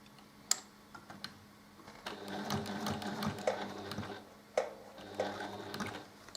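A sewing machine stitches a split diagonal quilt block, its needle running in steady bursts with sharp clicks and short pauses between runs, close and fairly quiet.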